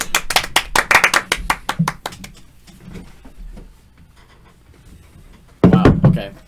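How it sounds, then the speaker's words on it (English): A small group claps in a quick, uneven burst for an interviewee named Isaac on a casual talk show. The clapping fades into quiet murmuring, and a loud burst of voices follows near the end. "round of applause for Isaac"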